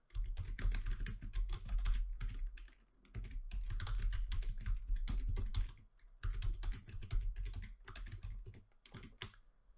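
An email address and password are typed on a computer keyboard in rapid bursts of crisp, close key clicks. Brief pauses fall between the runs of typing and no voice is heard.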